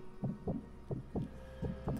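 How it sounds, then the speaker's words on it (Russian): An in-game heartbeat in Sniper Elite 4 thumps as the pulse recovers, six soft, muffled, low beats at an even, fairly quick pace, quiet and alone. "Так, пульс восстанавливается"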